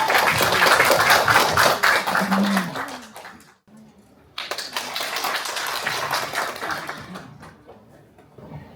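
An audience at a multicultural public seminar claps to welcome a presenter to the stage. Dense applause fills the room, breaks off briefly in the middle, then resumes and fades.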